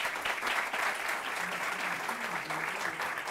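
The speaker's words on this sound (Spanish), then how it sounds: "le damos un aplauso para recibirlo." An audience applauds to welcome a guest speaker at a talk on international trade, a steady, moderately distant round of many hands clapping with no break across the short stretch.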